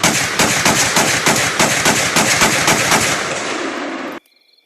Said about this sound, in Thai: เจ้าสมุนไม้หลาย สาดกระสุนจากท้ายรถอย่างดุดัน